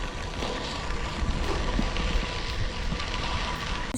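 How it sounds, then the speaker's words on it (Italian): Heavy rain pours down steadily near the Erie Canal locks, a dense, continuous hiss and patter with no pauses, fairly loud and close throughout. "sono bagnata a fradicia, è stata bella forte sta pioggia"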